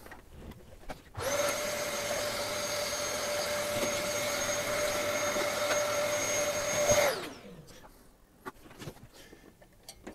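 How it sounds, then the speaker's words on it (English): A vacuum cleaner cleans inside a server during an E5-2690 V4 CPU upgrade: a loud, steady motor roar with a high whine that starts abruptly, holds about six seconds, then winds down. "After I give it a quick vacuum."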